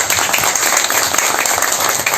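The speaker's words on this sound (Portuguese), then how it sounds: "a quem eu peço uma salva de palmas a todos" A hall audience applauds at a book launch event about the Goiás railway, steady dense clapping filling the whole moment at close, loud level with no talk over it.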